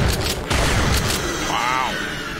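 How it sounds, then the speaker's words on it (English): Shotgun blasts in the Doom episode SIGIL, map E5M4, a few punchy booms in quick succession followed by a brief metallic chime, heard under a voice talking. "let's go with the shotgun here"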